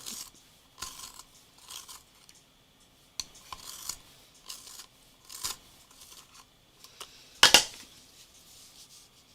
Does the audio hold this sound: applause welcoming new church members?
no